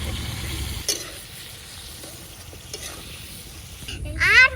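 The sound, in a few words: stirring fish curry with salt and turmeric in pan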